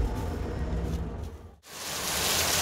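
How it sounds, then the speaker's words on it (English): Heavy tropical rain pours down outdoors at a market in Ghana, a loud continuous hiss with a brief dip before the roar swells again. "Look at this rain."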